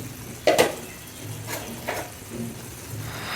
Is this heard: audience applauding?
no